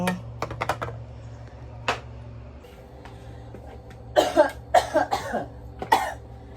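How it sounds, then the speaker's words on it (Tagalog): A few clicks and taps come first, then a person coughs several times in quick, rough bursts close by. "Grabe na talaga yung ubo ko ba."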